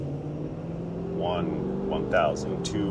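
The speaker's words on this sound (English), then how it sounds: "5 heavy full throttle accelerations" A Ford F-250 Super Duty pickup, running in engine derate, accelerates at full throttle. Its droning engine note rises underneath a man counting aloud.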